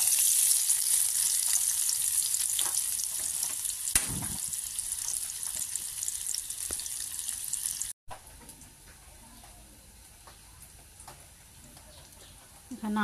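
Onions sizzle steadily as they fry in hot oil for birista, a continuous close hiss through the first half, then a quieter, sparser crackle after a brief break, with faint clinks now and then.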